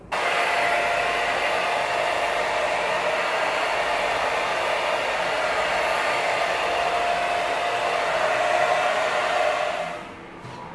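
A hair dryer runs steadily at close range, blowing air over freshly rinsed hair in a loud, even whoosh with a faint whine on top, then cuts down to a softer hum near the end. No one speaks.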